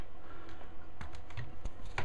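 Typing on a computer keyboard beside a small black-and-white CRT television, a few quick, close clicking keystrokes in an irregular patter.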